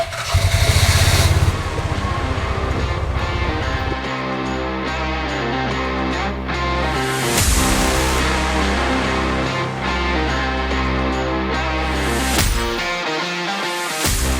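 A tractor engine cranks and catches, then settles into a loud, steady running rumble with a few revs up and down before it cuts off near the end, close by in a farm setting.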